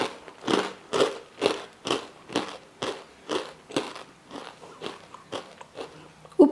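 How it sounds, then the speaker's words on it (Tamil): Someone bites into crunchy, crispy kara boondi, a spicy fried gram-flour snack, producing about a dozen close, loud crunches at a steady rhythm with no talking. "இப்போ நான் உங்களுக்கு சாப்பிட்டு காட்டுறேன் எந்த அளவுக்கு மொறுமொறுப்பா இருக்குன்னு"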